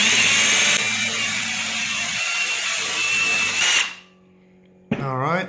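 A power drill with an arrowhead bit on drill mode, no hammer, boring through ceramic tile: a loud, steady high whine with grinding for several seconds that cuts off abruptly, then a brief voice.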